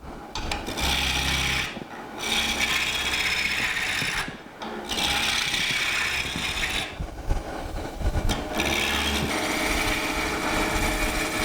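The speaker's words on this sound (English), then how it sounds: "While it's running, if you want to know if it's round yet, if you lay your tool on top, it'll rattle." Lathe tool resting on a spinning wood spindle that is not yet round, rattling and rasping steadily and loudly with brief pauses, alongside the hum of the wood lathe.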